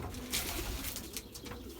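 Belgian racing pigeons back in the loft after a young-bird test race, giving soft, low coos close by over faint rustling, quiet and brief with no talking.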